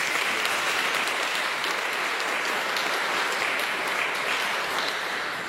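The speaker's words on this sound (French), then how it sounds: "on peut les applaudir aussi" A church congregation applauds at the close of a Mass, producing a dense, steady wash of clapping that holds at full strength for the whole stretch, with no talking over it.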